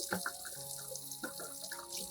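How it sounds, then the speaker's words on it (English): Running tap water pours over aloe vera leaves as they are rinsed in a sink, a steady splashing flow with faint clinking and dripping throughout. "Then wash the aloe vera under running water."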